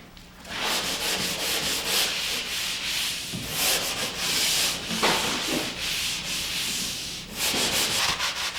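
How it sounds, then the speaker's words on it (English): A hand sander fitted with a mesh sanding screen scrubs dried drywall joint compound in long back-and-forth strokes, a close, steady rasping with brief pauses between passes. "This hand sander uses the same screens I use with my sanding pole."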